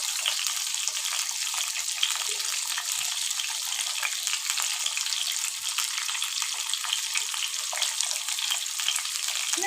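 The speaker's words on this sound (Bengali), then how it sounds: "এটা ভাজা পর্যন্ত অপেক্ষা করব।" Steady, dense sizzle of pointed gourd frying in oil, bright crackling hiss filling the whole stretch without pause, close by and fairly loud.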